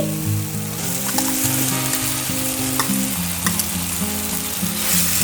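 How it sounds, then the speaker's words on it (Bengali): Fried potatoes tossed into cooked-down spice masala for a village-style Bengali bata fish dish, sizzling steadily in oil with repeated stirring and scraping, close and continuous. "এবার ভেজে রাখা আলুগুলো দিয়ে দিচ্ছি।"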